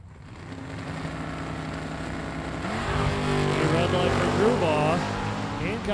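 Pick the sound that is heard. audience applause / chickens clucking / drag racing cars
drag racing cars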